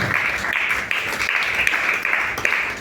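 Theatre audience applauding steadily for the sound crew at the close of a stage show, a dense wash of many hands clapping throughout with no break.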